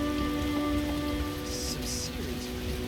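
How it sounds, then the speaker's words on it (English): Heavy rain pours steadily in The Witcher, a dense continuous wash of drops on surfaces with low rumbling undertones, holding an even level throughout as a faint voice murmurs in the background. "What a downpour."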